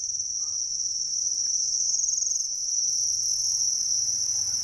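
Crickets at a cricket farm chirp in a dense, continuous high-pitched trill that stays steady and loud throughout, with no other sound competing.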